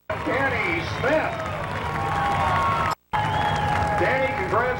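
A racetrack crowd at an All Star Circuit of Champions sprint car event in Florence, Kentucky applauds the winner, a diffuse wash of clapping heard under an announcer's amplified voice, pausing briefly before continuing.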